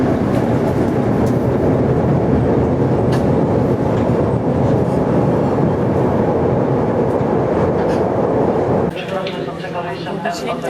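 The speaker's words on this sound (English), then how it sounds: "This is a Blue Line train to O'Hare." A Chicago Blue Line train heading to O'Hare rumbles steadily and loudly with continuous wheel and car noise, a recorded announcement voice speaking over it, shifting to a lighter, clattering texture near the end.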